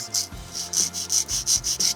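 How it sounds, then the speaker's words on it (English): A sanding block rubs back and forth across wood in steady, rhythmic strokes, a dry scratchy swish repeated about ten times, close up. "take your sanding block,"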